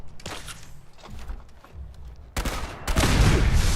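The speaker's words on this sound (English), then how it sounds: "Oh, laser gatling, huh?" A laser gatling gun in Fallout fires in sustained rapid bursts, a scattered stutter of shots at first, then a dense, loud, continuous barrage toward the end.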